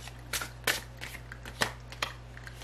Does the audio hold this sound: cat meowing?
no